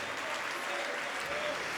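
A church congregation applauds during a worship service, a soft, distant wash of steady clapping that fills the room at a low level.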